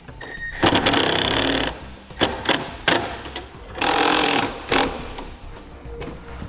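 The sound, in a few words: power drill driving a self-tapping screw to mount bracket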